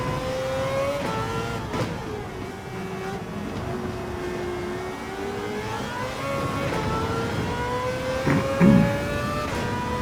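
A race car engine in Gran Turismo 7 climbs and settles through its revs, a steady whining drone with gear-shift dips and a brief louder burst near the end, with no voices over it.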